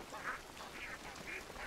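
Ducks quacking in a video game: three or four repeated nasal quacks, evenly spaced, moderately loud over a steady background hum.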